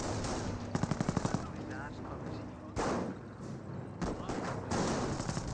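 Machine-gun bursts and scattered rifle shots from a Company of Heroes infantry firefight between Wehrmacht Volksgrenadiers and Allied troops. A rapid rattling burst is followed by heavier booming reports, with a commentator talking over the gunfire.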